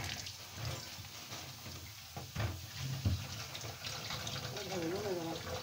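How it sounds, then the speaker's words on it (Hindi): A few dishes are washed under a running kitchen tap, with a soft steady stream of water and light clinks, quiet and close, while someone talks over it. "हाँ तो मैं ना इस वक्त तक ये 2-3 बर्तन है ये धो लूँ"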